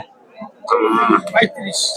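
A young milk-fed calf moos in a short, strained call amid cattle market background noise at Boromi, with people talking nearby.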